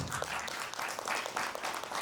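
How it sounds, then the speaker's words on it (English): Guests at a London film screening about the Tigray war receive applause from the audience, a continuous, fairly soft patter of clapping heard from a distance in the room. "give a round of applause to our guests"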